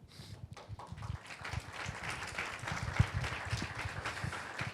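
A literary-reading audience in an auditorium gives soft, distant scattered applause, faint and uneven, with individual claps standing out from the low patter.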